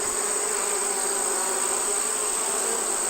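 Honey bees swarm around hives in a yard, a dense, steady buzz that fills the air without a break, loud and close with no voices over it.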